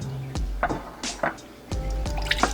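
Water poured around the outside of a bread pudding dish makes short splashing, gurgling bursts with brief pauses between them, close and fairly loud.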